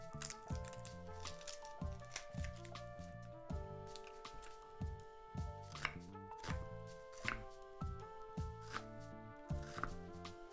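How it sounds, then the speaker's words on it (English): Onions chopped roughly with a knife on a dedicated onion cutting board, a rapid run of sharp, fairly quiet knocks in uneven bursts, close-up and without talk. "I chop my onions on an onion board"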